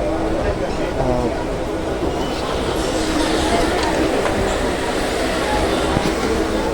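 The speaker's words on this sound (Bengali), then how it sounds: "বন্ধুরা, আমাদের ট্রেন চলে এলো কল্যাণী স্টেশনে।" A local train pulls into Kalyani station on the Eastern Railway main line, its loud, steady rumble of wheels and carriages carrying on throughout, with a person talking over the noise.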